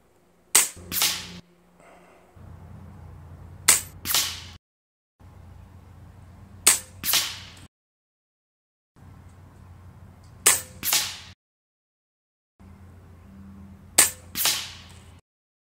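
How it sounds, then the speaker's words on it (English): Ataman M2 magnum PCP air rifle firing five single shots at a target, each a sharp near crack followed by a quick thwack, spaced about every three to four seconds against faint background hum. "I guess I'll just shoot it right here."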